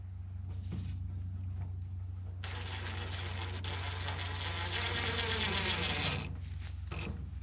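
A ratchet tightening the fasteners on a Mazda fuel tank during a fuel pump replacement, with a rapid, continuous clicking run of about four seconds, close and loud over a steady background hum.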